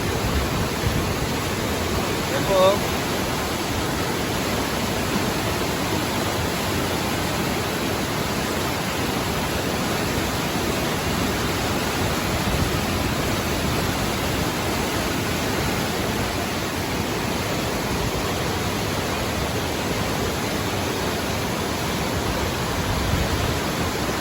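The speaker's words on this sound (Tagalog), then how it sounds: "malakas na rin po yung agos ng ilog" A strong river current rushes in a constant, broad roar during Typhoon Carina, filling the whole clip, with a brief voice speaking faintly near the start.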